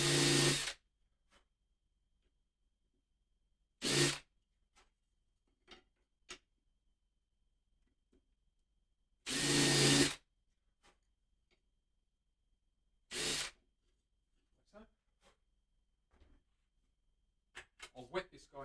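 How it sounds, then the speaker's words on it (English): Short bursts of a drill countersinking holes in a wooden guitar cap, about four separate brief whirs spaced apart with quiet gaps, close and fairly loud. "Let's countersink these holes"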